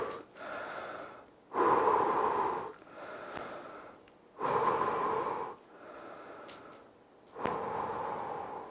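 Heavy rhythmic breathing during a home fat-loss workout, with loud forceful exhales in bursts about every three seconds, separated by quieter inhales, close up and without talk.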